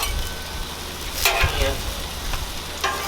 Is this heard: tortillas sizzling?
yes